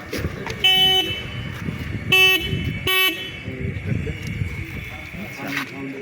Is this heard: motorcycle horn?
yes